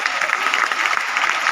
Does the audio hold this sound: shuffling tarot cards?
no